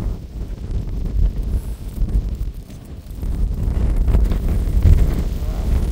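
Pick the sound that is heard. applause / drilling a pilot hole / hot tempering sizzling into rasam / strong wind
strong wind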